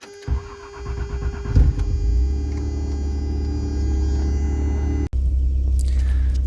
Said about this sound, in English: I'll let my truck warm up as I usually do, especially in the wintertime.